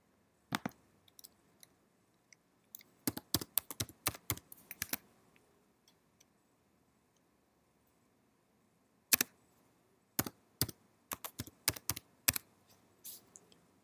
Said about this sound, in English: Type in your new password. Then type it in again for verification.